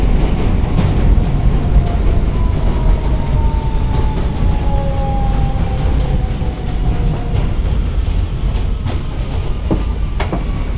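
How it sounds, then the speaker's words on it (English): A New York subway W local train rumbles steadily along the rails departing a station, with a faint rising whine and occasional clicks, loud and close throughout, with no voices. "This is a Manhattan-bound W local train."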